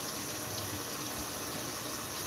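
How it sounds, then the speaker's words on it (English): Water runs steadily through a sink drain fitted with a slip joint and nut washers, producing a loud, continuous gushing wash with no pauses and no voices. "Kind of feel the water a little running here."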